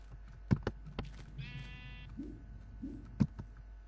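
Sheepuff sheep from the Minecraft Aether mod bleating a few times, soft and fairly close, mixed with scattered clicks and light game noises.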